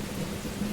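Steady rain falls with a low rumble underneath, an even, unbroken hiss for under a second.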